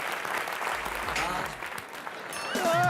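A studio audience at a comedy show applauds steadily, with voices and a brief musical tone rising near the end.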